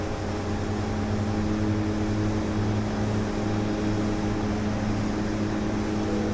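DHC-6-300 Twin Otter twin-propeller aircraft climbing out after takeoff in FSX, a steady loud drone of engines and propellers with a constant hum, unbroken throughout.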